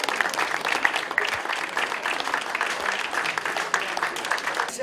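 An audience at a book prize ceremony at a literary fair applauds the volunteers, a dense, even patter of many hands clapping continuously at moderate volume.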